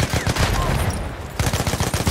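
Rapid bursts of machine gun fire rattle through a World War I Battlefield battle at Tahure, loud and dense, pausing briefly before another rapid volley resumes.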